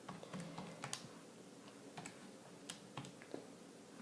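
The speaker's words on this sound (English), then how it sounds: "I'm typing this in the calculator exactly how I see it" Calculator keys are tapped in an irregular run of small, crisp clicks while a geometric sequence problem is worked out, faint and close in a quiet room with no voice.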